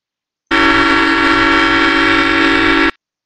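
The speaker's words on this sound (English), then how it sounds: "That sounded like the entire horn." A looped car horn sample made for a Gmod addon blares loud and steady for about two and a half seconds, then cuts off abruptly, with no pauses and no talking.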